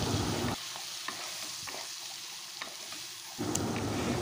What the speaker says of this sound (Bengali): তেলটা গরম হতে পেঁয়াজ বাটাটা আর লঙ্কা বাটাটা দিয়ে দিচ্ছি। এখন এটাকে একটু বেশ ভালো করে ভেজে নেব।